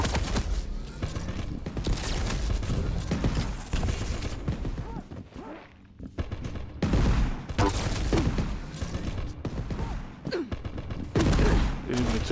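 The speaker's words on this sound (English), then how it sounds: "In between the shots of Pepco's tribal, the base is able to connect his railgun onto Pepco." Gunfire and railgun shots in the arena shooter Quake Champions, loud bursts and cracks clustered over a dozen seconds with a brief lull midway.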